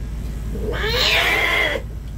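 An aggressive cat lets out a single drawn-out, rising and falling yowl lasting about a second, loud and close, with quiet room sound before and after.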